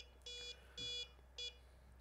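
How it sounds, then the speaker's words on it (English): Three short, high electronic beeps in an uneven pattern from an electronic safe lock keypad after an incorrect code, clear against a quiet background hum. "So it'll give us the incorrect beep."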